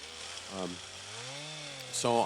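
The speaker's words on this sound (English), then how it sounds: "I didn't just dub the sound of a chainsaw in the background." A chainsaw cuts up ash trees for firewood in an urban lot, a steady distant drone running under a man's speech throughout.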